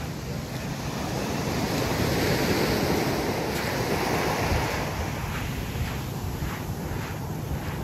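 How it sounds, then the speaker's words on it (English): Waves break on a rocky beach at Playa de Oro in Vallarta, a continuous loud roar of surf and wash with wind buffeting the microphone. No talking. "Get a little bit into the more of the rockier beach"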